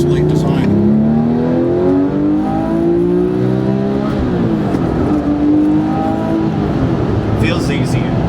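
A Porsche 997.2 GT3 RS accelerates hard with a loud, rising engine howl that climbs, drops at a gear change, then climbs again, while people talk over it.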